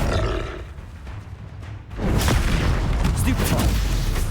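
A Confringo fire-blast spell goes off in the video game Hogwarts Legacy, a loud roaring, booming burst that swells suddenly and rumbles on densely, layered with other in-game combat noise.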